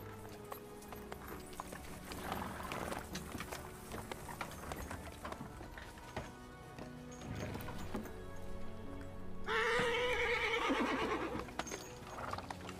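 Horse-drawn carriage in the Lost Ark video game, with steady clip-clop hooves and a loud whinny near the end, set over game music and ambient sound.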